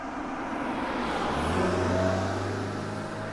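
A car driving sound effect: a steady, loud engine drone that swells slightly midway and holds to the end, with no talking.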